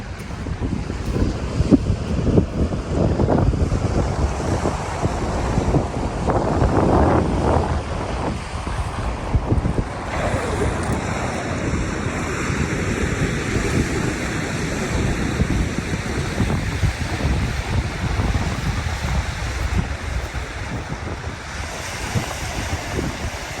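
Waves wash and roll in continuously on a seashore below a hill near a golf course, mixed with gusting wind buffeting the microphone, a loud steady roar with no voices.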